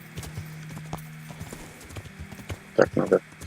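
Horse hooves clip-clop on the ground while riding in the game Kingdom Come: Deliverance, a quiet irregular patter that grows louder near the end, with a voice talking briefly over it.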